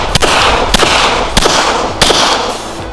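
Five sharp gunshots from a handgun in a shooting drill, fired from a press-out start, ring out close and loud in an uneven sequence of distinct cracks over about three seconds.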